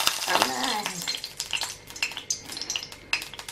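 Omelette batter for a coloured omelette is poured into a hot frying pan, giving a steady sizzle with scattered clinks and scraping of a utensil against the pan, close and moderately loud, with no voices.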